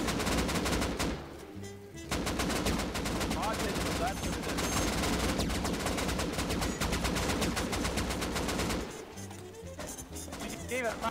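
Sustained fully automatic gunfire in the survival game Rust, a loud rapid rattling burst running nearly continuously from about two to nine seconds, with a player's voice talking over it.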